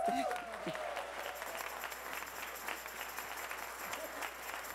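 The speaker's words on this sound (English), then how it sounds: "So we need to give a huge round of applause for those folks." Faint, distant applause from an audience at a school event honoring student performers, a soft wash of clapping that follows a brief bit of speech at the start.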